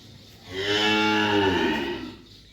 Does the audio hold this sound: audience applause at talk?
no